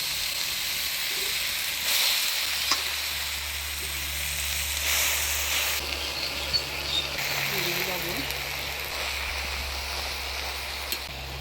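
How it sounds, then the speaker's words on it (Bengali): Bottle gourd greens (lau shak) fry in a pan with a steady, hissing sizzle under a low background hum, moderately loud and close, without talking. "এবার শাক ভাজাটা করবো এবার পরে শাকটা দিয়ে দিচ্ছি"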